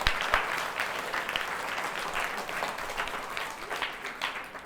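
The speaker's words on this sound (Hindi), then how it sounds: "मेरे लिए ताली नहीं बजाओगे?" An audience claps during a classroom physics session, a steady wash of many hands through the whole stretch, moderately near and continuous, with no voices over it.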